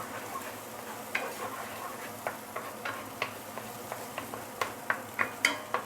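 Egg being scrambled in a hot pan for Thai fried rice, a steady sizzle under repeated sharp spatula taps and scrapes that grow more frequent toward the end, close and without talk.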